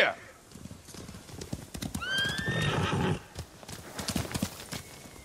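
Galloping horses in Ghost of Tsushima approach with clip-clop hoofbeats and a sharp neigh midway, the trained samurai mounts arriving loud and close amid outdoor ambience.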